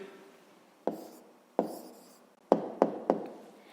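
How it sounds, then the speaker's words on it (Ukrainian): A pen writes out the answer to a fifth-grade maths exercise by hand, giving a few sharp, close taps and short scratchy strokes against a quiet background. "Ну що ж, записуємо відповідь."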